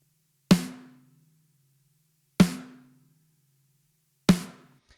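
A snare drum run through a high-pass filter around 100 Hz and EQ for heavy music, struck three times at a steady pace, each a sharp, close crack that fades quickly into silence.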